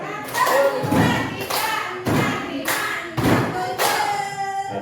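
Group claps in the tepuk 7 clapping rhythm game, a school positive-culture activity: a run of loud, thumping bursts roughly every second, close and steady, with faint voices between.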